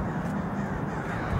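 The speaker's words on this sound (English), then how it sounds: "We have crows all over the palm trees." Crows in palm trees caw in a dense, continuous chorus from nearby, loud and steady over an outdoor background, with no one talking.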